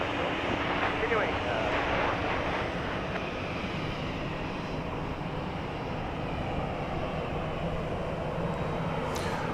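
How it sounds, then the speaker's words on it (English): A Southwest Airlines Boeing 737-700 departs the runway at Dallas Love Field at daybreak, bound for Austin, Texas, its steady, broad jet roar holding loud and constant throughout. "This looks to be Southwest Airlines Flight 714, a Dash 700 going to Austin, Texas."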